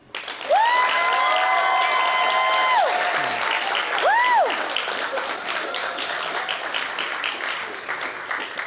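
Audience applause at a plus-size women's fashion event, sustained clapping with whistles and cheers up front, then thinning to scattered claps.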